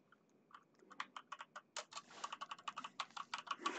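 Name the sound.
typing on SteelSeries Apex M750 mechanical keyboard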